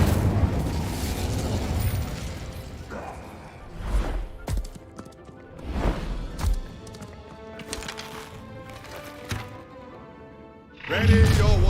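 Spell casting and combat effects from the Hogwarts Legacy video game: a run of heavy thumping blasts and booming impacts at intervals over a steady rumbling bed, with a loud burst at the end.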